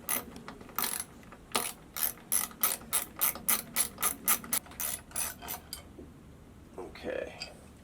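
A hand ratchet with a 1/4 inch socket clicks in quick repeated strokes while loosening the screws of a VGreen 2.7 variable speed pool pump motor cover, close and crisp, then stops before brief faint sounds.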